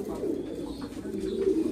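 Royal Teddy pigeons coo steadily, a low continuous throaty burble, fairly close and unbroken with no voices over it.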